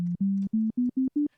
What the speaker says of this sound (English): I got a sine wave.